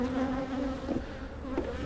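Honey bees hum in a dense, continuous drone close by during a hive inspection at an apiary as a storm approaches, with the pitch wavering slightly and no talk over it.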